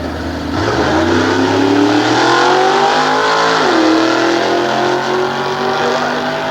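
A 1950 Chevrolet drag car, Myers Machine Shop prepared, revs hard at Sears Point nostalgia drags, the loud engine rising in pitch, dipping briefly midway, then holding a strong, steady roar close by.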